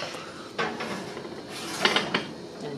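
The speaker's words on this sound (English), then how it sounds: "All right, into the oven we go." A dish of bagel bread pudding slides into a 350-degree oven, giving a few close metallic clanks and scrapes of the pan against the rack, with quiet room noise between the knocks.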